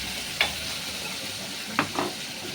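Prawns for a gongura prawn curry fry and are stirred in a pan, a soft continuous sizzle broken by a few short scraping stir sounds.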